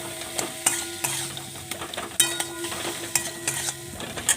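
Salted food fries in a pan, a soft sizzle under repeated clinks and scrapes of a utensil stirring, at close range with no talking.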